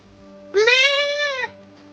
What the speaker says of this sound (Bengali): ছাগল দেখবেন, দাদা ছাগল